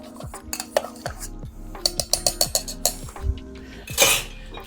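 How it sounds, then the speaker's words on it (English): A spoon stirs kumquat puree and prosecco in a cocktail shaker, producing a run of close, light metallic clinks and scrapes in a quick irregular rhythm, with a brighter rattle near the end. "Using a spoon, you're going to mix up slowly but surely the puree and the prosecco."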